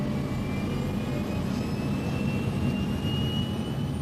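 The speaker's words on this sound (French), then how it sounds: "L'avion a commencé à rouler, à accélérer" Jet engines of the LAPA flight 3142 airliner accelerating for takeoff, a loud, steady roar with a thin whining tone that slowly rises in pitch, continuous and heard from inside the aircraft.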